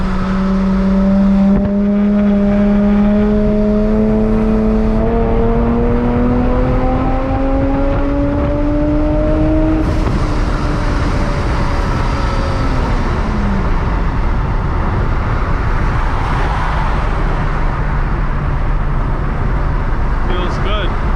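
Supercharged Infiniti G37 engine pulling hard in fourth gear, a loud rising drone that climbs steadily in pitch for about ten seconds, then eases off and settles lower, heard from inside the car with steady road noise.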